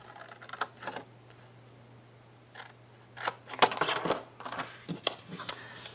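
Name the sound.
scissors cutting paper along the score lines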